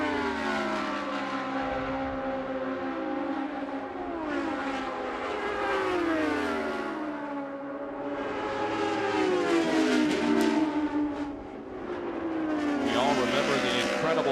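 IndyCar race cars screaming around the Walt Disney World Speedway oval during the 2000 Delphi Indy 200, high engine whines swelling and fading as cars pass, under continuous commentary.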